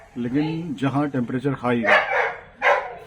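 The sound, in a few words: dog barking in the background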